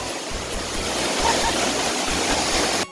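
At Krathing waterfall, loud rushing water roars steadily up close with a low churning rumble, then cuts off abruptly just before the end.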